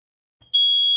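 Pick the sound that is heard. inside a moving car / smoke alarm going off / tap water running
smoke alarm going off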